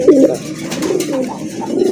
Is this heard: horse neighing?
no